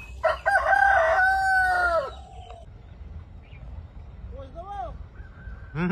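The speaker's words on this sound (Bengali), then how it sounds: "মুরগি ডাকছে, সত্যি আলাদাই ফিল এগুলো" A rooster crows near a straw-roofed village house on an embankment path in the Sundarbans, one loud drawn-out call at the start, then fainter calls from other fowl and a short call starting at the end, with birdsong and a low rural hum underneath.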